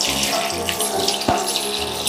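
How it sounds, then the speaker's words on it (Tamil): Water poured from a vessel into a pressure cooker holding rice, dal and spinach for a homemade baby-food dish, a brief steady splash and trickle with a small clink near the end, close and continuous. "கொஞ்சோண்டு தண்ணி ஊற்றியாச்சு."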